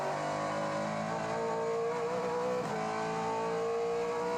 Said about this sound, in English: Just the sound of that 5-litre quad cam V8, it's got such a nice pitch to it going down the front straight.